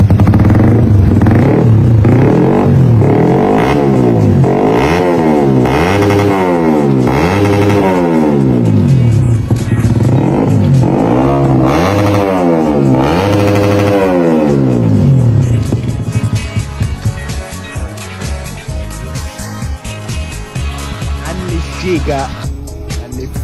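A Yamaha Sniper 155 motorcycle fitted with superstock parts is revved hard and close, with repeated rising and falling throttle sweeps for about fifteen seconds before it settles into a rough, clattery idle.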